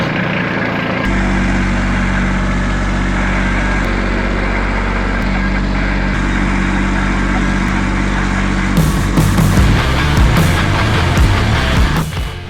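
A Kubota tractor engine runs loudly and close by, a steady low rumble that roughens and surges near the end while moving material for a raised garden bed.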